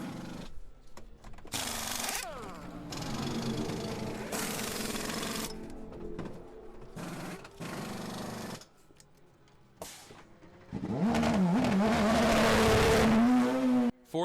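Sports race cars compete in the 2012 American Le Mans Series race at Virginia International Raceway, engines screaming past in loud bursts separated by short gaps, with revving pitch sweeps as cars shift and a sustained close roar near the end.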